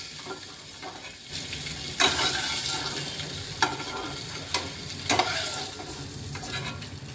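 Coconut milk goes into a pan of frying spice paste for prawn malai curry, bringing a soft steady sizzle broken by several sharp spoon scrapes and clinks against the pan.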